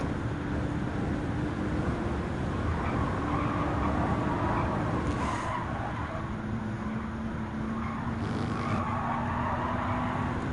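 Porsche Taycan Turbo S electric car driving in Gran Turismo 7, a steady whining drive tone with a faint rising pitch over constant road and wind rush, continuous and fairly loud throughout.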